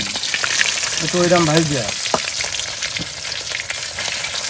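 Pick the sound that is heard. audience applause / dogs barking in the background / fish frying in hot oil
fish frying in hot oil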